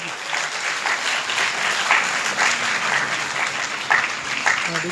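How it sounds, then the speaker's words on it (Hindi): An audience at a student guidance event claps steadily and densely for a few seconds, close and continuous. "तालियां बजती रहे।"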